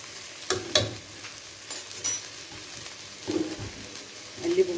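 Food frying in a pan is stirred after a spoonful of salt goes in, giving soft intermittent scraping strokes over a faint, steady sizzle.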